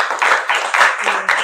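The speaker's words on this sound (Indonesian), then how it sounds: "Tepuk tangan dong buat Aji" Classroom applause for a student comes as a short burst of clapping in several quick waves, close and moderately loud, with a faint voice underneath.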